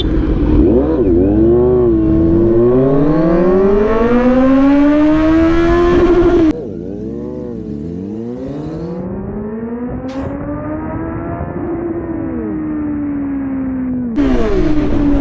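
A 948cc motorcycle launches hard, its engine wailing up in pitch, dropping at a gear change midway, then climbing again to a high scream, loud and close.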